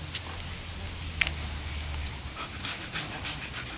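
A pet dog panting close by in quick, rhythmic bursts of breath, fairly soft, with a brief sharper sound in the middle.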